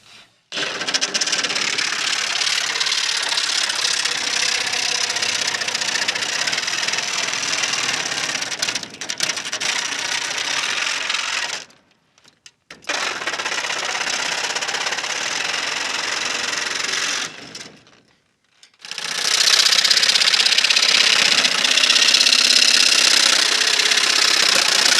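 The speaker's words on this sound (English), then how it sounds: "A reciprocating saw or a sawzall with a metal cutoff blade usually works best for this" A reciprocating saw fitted with a metal cutoff blade cuts polycarbonate sheeting on a high tunnel arch, a loud harsh buzzing rasp in three long bursts separated by short pauses.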